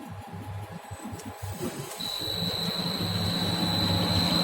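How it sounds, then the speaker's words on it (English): A BC-CR708 common rail test bench starts a HEUI injector test, its motor and pump running as a continuous droning whir that steps up louder after two seconds, joined by a steady high whine. "Machine start testing now."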